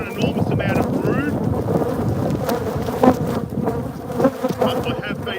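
Honey bees at a hive buzz loudly and close, a dense droning hum with individual bees whining past, their pitch rising and falling, and occasional soft knocks of frames being handled.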